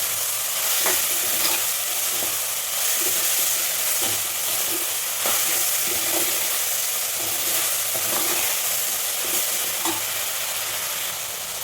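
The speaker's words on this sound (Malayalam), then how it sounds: "സവാള ഇതിനെ പെട്ടെന്നൊന്ന് വഴറ്റിട്ട് നല്ലതുപോലെ ഒന്ന് നോക്കണം" Sliced onion sautés in a pan for a ladies finger curry, giving a steady, loud hiss of frying broken by soft, regular knocks and scrapes of stirring throughout.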